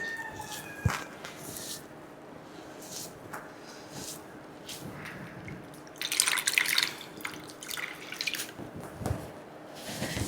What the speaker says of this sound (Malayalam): ഇങ്ങനെ കഴുകുമ്പോൾ വെള്ളം ഒഴിച്ച് കഴുകണതിന്